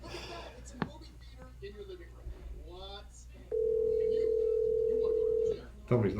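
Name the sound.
telephone dial tone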